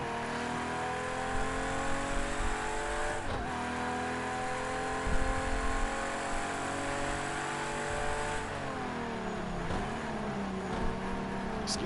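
Race car engines rev loudly and steadily in the Project CARS 2 racing game, with harmonic whine rising and falling as gears shift, cars close by and continuous throughout.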